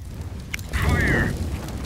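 A molotov being thrown in Counter-Strike: Global Offensive: a soft whooshing burst of flame that swells and rumbles for about half a second, then fades, moderately close.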